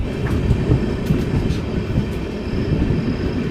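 The Ramnagar Dehradun Express rolls along the track near Dehradun, a steady loud rumble with a rhythmic clickety-clack of wheels and faint metallic squeaks, heard from inside the train.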